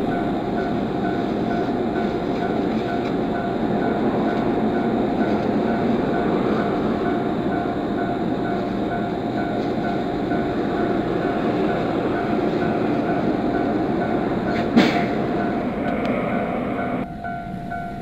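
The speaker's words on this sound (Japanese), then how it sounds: "広島行き発車します。" A JR Kabe Line commuter train bound for Hiroshima during the morning rush rumbles steadily from inside the car, a continuous loud rolling drone with a brief clunk near the end and faint voices beneath.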